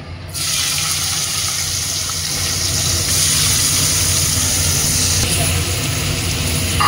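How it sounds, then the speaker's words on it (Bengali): Tap water runs steadily into a sink as cut vegetables are rinsed in a home kitchen, a continuous close rushing that grows slightly fuller partway through, with no talk. "সবজিগুলো ধুয়ে নিয়ে আসি আগে"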